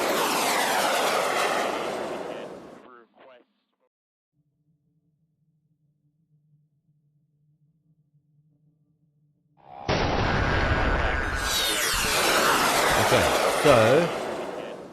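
Jet aircraft engines in the modern air-combat game Command: Modern Operations roar loudly for a few seconds, fall to near silence, then surge back in with a powerful rushing whoosh.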